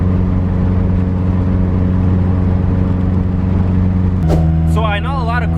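A car cruising along on the drive to work, with a steady loud engine and road drone throughout and a brief whirring, warbling sound near the end.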